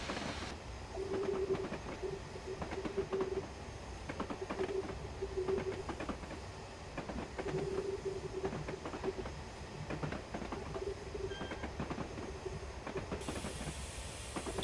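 A Bulleid Q1 steam locomotive in Train Simulator 2015 runs on the Somerset and Dorset line, giving a steady rumbling roll with rhythmic exhaust beats and a faint repeating tonal whine, and no voice over it.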